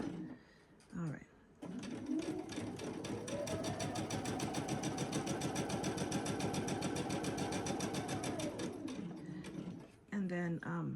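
A sewing machine runs steadily as it back stitches a jelly roll rug, a fast even mechanical whir lasting several seconds, with a person speaking briefly before and after.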